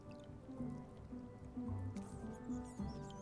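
Water drips from a leaky jail ceiling in the video game Return to Monkey Island, a few soft squishy drops landing at intervals over a low ambient game music bed.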